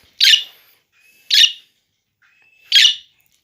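Three short, sharp parrot squawks spaced about a second apart, each a bright burst with nothing else in between.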